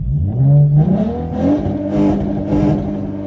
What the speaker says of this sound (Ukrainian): Можна їздити і отак газувати.